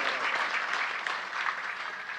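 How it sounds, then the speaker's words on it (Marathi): An audience at a harikirtan religious gathering in an ashram claps warmly. The applause is even and sustained and moderately loud, with no speech over it. "त्यांच्याकरता सर्वांनी मनापासून टाळ्या वाजवा।"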